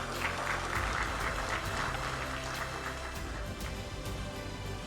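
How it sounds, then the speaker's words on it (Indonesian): An indoor crowd claps steadily for land office heads from Banten province at a ceremony, with no break for about five seconds. The applause is moderately distant and even, and faint chatter runs under it. "tepuk tangan untuk para kantah kita"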